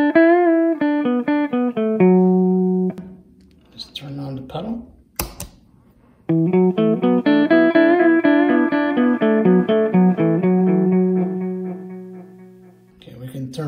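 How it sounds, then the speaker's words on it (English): Clean Kramer electric guitar played through a Marshall head with a Donner Yellow Fall delay pedal: sustained plucked notes and chords ring out, pause briefly around a few soft knocks, then resume in a longer strummed passage, loud and alone. "here's the sound of the clean guitar."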